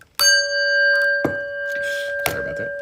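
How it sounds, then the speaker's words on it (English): A prayer bell is struck and rings with a clear, sustained tone, followed by a few soft knocks and a second strike that sets the tone ringing again. "let's hear our prayer bell"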